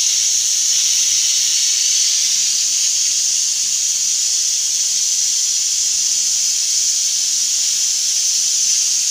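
Kitchen pressure cooker steadily releasing steam while pav bhaji cooks, a loud continuous high hiss that holds evenly throughout with no voices over it.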